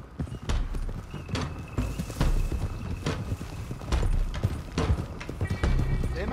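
Hooves of several horses clatter in a steady clip-clop rhythm as riders set out in Red Dead Redemption 2, close and fairly loud with occasional snorts, over a low background.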